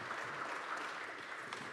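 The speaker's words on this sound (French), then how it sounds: "le tout sous vos applaudissements" An audience at a conference on Mayotte and the French overseas territories applauds, a dense, even wash of clapping heard at a distance and fairly faint throughout.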